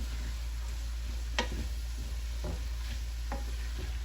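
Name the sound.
shrimp and vegetable stir fry with spring onion sizzling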